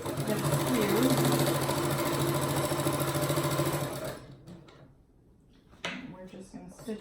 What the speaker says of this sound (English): Just going to stitch this all the way down.